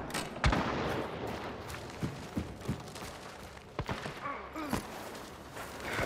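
Mosin rifle shots in Hunt: Showdown crack out a few times at moderate distance, separated by irregular pauses, with a faint background of footsteps and ambient game noise.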